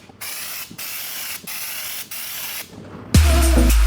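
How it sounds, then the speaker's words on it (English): Bursts of hissing spray from an air-powered paint spray gun fitted to a shaken paint can, several on-off pulses with short gaps, then a louder steady hiss with a low rumble at the end. "Insert the spray gun into it."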